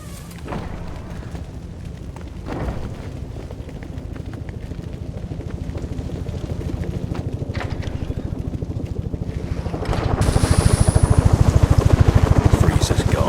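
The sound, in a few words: helicopter flying away in Batman: Arkham Origins video game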